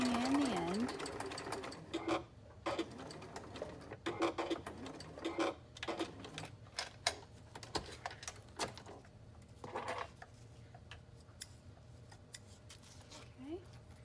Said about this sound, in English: we're going to do this with a 3/8 inch seam allowance. Making sure to backstitch.